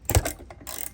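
A ratchet wrench loosens an 8 mm bolt on a Raptor 700 ATV exhaust, producing a brief close burst of clicking ratchet turns lasting about a second.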